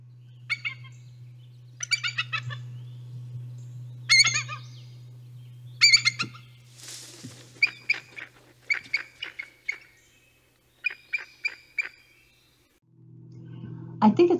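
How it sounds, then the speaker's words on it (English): A recorded bald eagle call plays back as repeated bursts of thin, high, chattering piping notes in short rhythmic series, over a low steady electrical hum. "Something else about bald eagles that's really interesting is their call."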